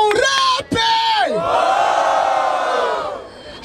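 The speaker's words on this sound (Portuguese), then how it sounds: "Barulho para os irmãos do Milhouse" A crowd at a Brazilian freestyle rap battle final cheers and yells loudly, a dense roar of many voices with rising shouts that swells and holds for several seconds.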